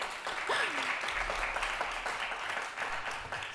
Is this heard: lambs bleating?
no